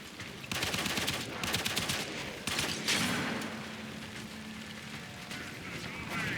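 Rapid automatic fire from a Braton rifle in the Warframe video game, a dense stream of loud shots over game ambience, with a blast-like burst near the three-second mark.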